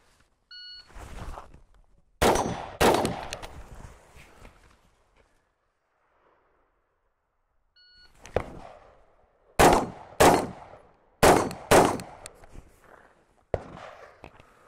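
Gunfire at an outdoor shooting range from a rifle and a pistol: loud, sharp reports in a couple of clusters with quiet gaps between, a few paired shots, then a rapid run of four or five evenly spaced cracks.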